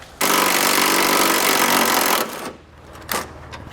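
A power tool with a 15mm socket drives out a bolt on the bumper of a 2018 GMC Sierra 1500 truck, giving one loud, steady two-second whir that stops abruptly, followed by a short rattling burst.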